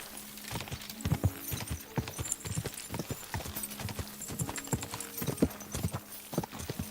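Horse hooves clip-clop at a steady walk in Kingdom Come: Deliverance II, close and fairly loud, with a few soft snorts and no talk over the regular footfalls.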